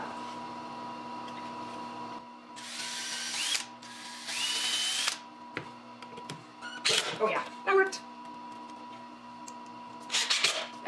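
Power drill driving a hanger into the back of a wooden barn quilt made from leftover wood triangles: two close, loud bursts of whirring, then shorter intermittent spurts and handling clatter, with no talk over them.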